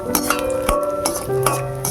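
Raisins stirred and fried in ghee in a pan for semolina halwa: close, loud spoon scrapes and metallic clinks recur every half second or so over a continuous frying hiss.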